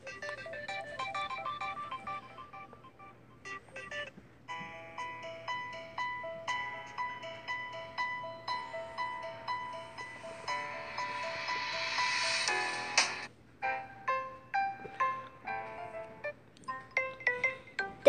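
An alarm ringtone plays on a Samsung Galaxy S7 phone, a clear melodic electronic tune of repeating tonal notes, swelling to a brighter passage before ending in choppy bursts, with a faint low hum beneath.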